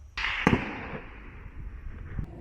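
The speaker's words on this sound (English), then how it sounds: "There is actually a guy with a rifle shooting into the scenery, man." A sharp, loud rifle crack followed by a long rolling echo, then a fainter second pop near the end, in open countryside on Mallorca.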